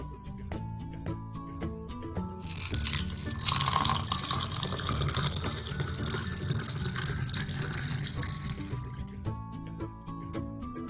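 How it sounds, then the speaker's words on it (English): A toy popsicle is dipped into purple colored water, giving soft splashing and trickling liquid sounds in the middle, framed by faint clicks and light plastic handling before and after. "Let's see what happens when I dip the popsicle into the purple colored water."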